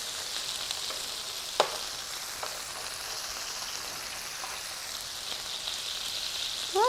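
Cheeseburger-stuffed biscuits, a 1960s ground beef recipe, sizzle and fry steadily in a pan just after being flipped, a soft continuous crackle with a single sharp tap of a spatula, no talking.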